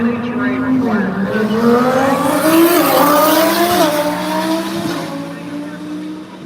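An NHRA drag race car roars loud and close through a run at about 193 mph, its engine tone climbing and shifting steadily across a sustained pass, with tire squeal mixed in and a commentator talking over it.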